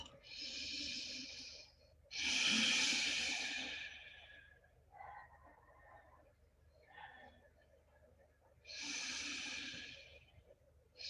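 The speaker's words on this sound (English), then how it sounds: "Breathe into your right hip. Find that breath." Slow, deep breaths during a guided yoga session: long loud inhales and exhales, close to the mic, with soft quieter breaths between the louder ones.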